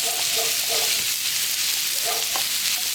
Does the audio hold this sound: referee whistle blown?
no